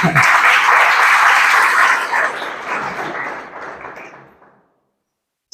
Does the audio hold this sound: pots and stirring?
no